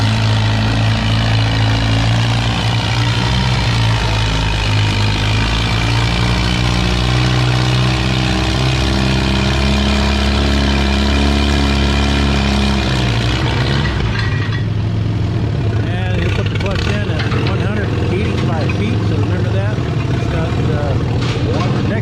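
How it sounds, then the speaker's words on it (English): Loud engine roar from a C-Plus Alice pulling tractor at a 3200 lb class tractor pull, a heavy droning run that cuts off sharply partway, leaving crowd noise and announcer talk. "And we have the C-Plus Alice."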